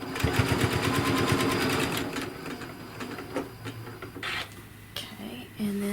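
A sewing machine runs in a fast, steady stitching burst while chenille binding is sewn onto a quilt, then slows to scattered clicks and handling sounds near the end.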